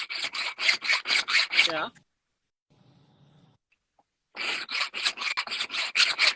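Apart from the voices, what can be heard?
filing with a coarse checkering file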